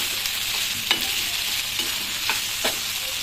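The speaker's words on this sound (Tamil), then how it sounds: "இப்ப கோவக்காய் வந்து கொஞ்சம் நல்லா ஃப்ரை ஆயிடுச்சு" Ivy gourd (kovakkai) frying in a pan, giving a steady close sizzle with occasional soft scrapes and clicks as it is stirred, and no talking.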